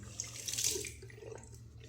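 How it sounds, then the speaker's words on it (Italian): Cold tap water runs from a bathroom faucet in a steady, fairly quiet splashing stream, with no talking over it. "Acqua fresca ragazzi,"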